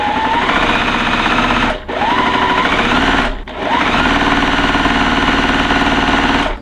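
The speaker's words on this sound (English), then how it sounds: "we're going to sew a scant quarter on either side of the line" A sewing machine stitches a scant quarter-inch seam on quilt fabric, running in three loud, close bursts of rapid whirring separated by short pauses.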